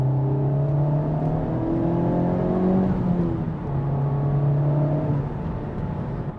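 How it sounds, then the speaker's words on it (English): Honda Civic Type R accelerating hard from inside the cabin, a loud continuous engine drone with rising and falling revs as gears change, the turbo blow-off lost in the engine noise. "you can slightly hear the turbo blow off"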